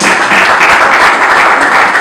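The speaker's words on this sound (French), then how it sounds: "Christian Iyungu Nyabushuba, sous vos acclamations, s'il vous plaît, dans la salle." Sustained applause from a university conference audience in Kinshasa greeting a speaker on fossil and renewable energy governance, a dense, steady wash of clapping filling the hall for about two seconds without pause.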